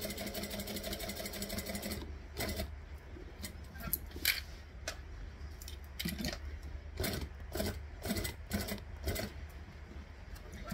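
A sewing machine runs a steady whirring stitch along a bag seam for about two seconds, then continues in short bursts with clicks and pauses, close and without talk.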